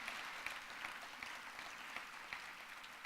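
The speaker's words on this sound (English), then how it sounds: "go ahead and applaud" A seated audience at a university public-policy competition final claps steadily, a faint, even, continuous patter of many hands throughout.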